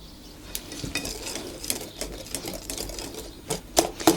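Apple cake batter of sugar, eggs and oil is stirred in a bowl, with quick, steady scraping and clinking strokes and a few sharper knocks of the utensil against the bowl near the end.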